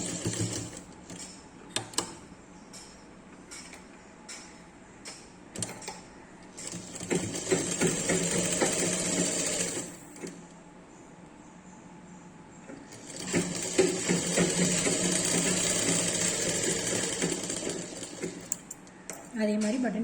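A sewing machine stitches the side seam of a baby dress, its motor whirring in two sustained runs of several seconds each, separated by quieter stretches of handling noise and faint clatter.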